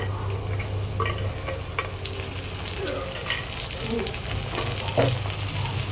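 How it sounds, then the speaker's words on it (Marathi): Finely chopped tomato sautés in a pan with capsicum and soya, a continuous moderate sizzle with intermittent scraping and clicking as the mix is stirred, fairly close and without talk. "पण याला सॉटे करूया थोडं टमाटे पटकन शिजावे म्हणून"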